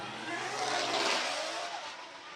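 A drift car, a Kazama Auto-built S52, enters a corner during Formula Drift Japan qualifying at Ebisu. The engine roars loud and near with a rising rev and a tyre-skid hiss that swells mid-pass and then eases.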